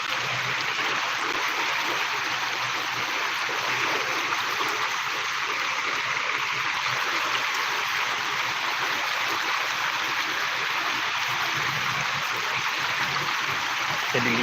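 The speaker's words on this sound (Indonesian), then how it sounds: "meluap dari Sungai Walanai." Floodwater from a swollen river rushes steadily, a dense continuous roar of flowing water with no breaks.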